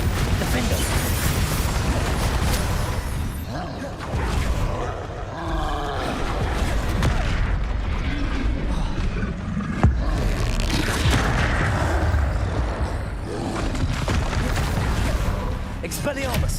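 Explosive Bombarda and Confringo spell blasts in the Hogwarts Legacy video game, loud booming impacts and rumbling roars repeating densely throughout over continuous game music and effects.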